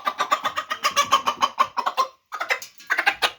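A hen clucks rapidly and repeatedly at close range, a fast rhythmic series of sharp calls with a brief pause before resuming, during weighing on a poultry farm raising broiler chickens.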